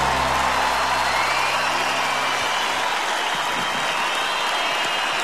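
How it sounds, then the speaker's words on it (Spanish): A large festival audience at Viña del Mar applauds and cheers after a concert, a dense, loud, continuous roar of clapping that fills the whole moment. "Y con este aplauso"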